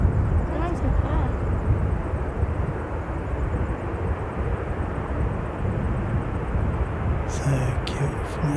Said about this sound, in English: I thought it was a propeller one coming in